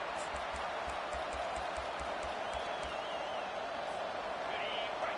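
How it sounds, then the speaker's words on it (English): A stadium crowd roars in EA College Football 25 as fans try to help their defense: a dense, continuous wash of cheering with faint rhythmic thumps underneath. "Listen to this crowd just shaking the girders of this place, trying to help their defense"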